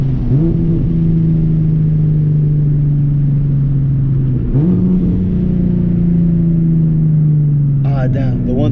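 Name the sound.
turbo Nissan 370Z Nismo engine revving during a launch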